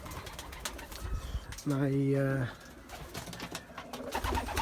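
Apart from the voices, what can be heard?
racing pigeons cooing in a stock loft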